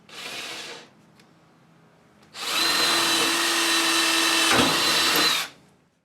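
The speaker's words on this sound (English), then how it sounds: "Okay, so I've got the Bosch compound miter saw. This is the Axial Glide 12-inch model." A Bosch Axial Glide 12-inch compound miter saw gives a short motor whine, then after a pause spins up again for a loud three-second cut with a steady high whine before powering down.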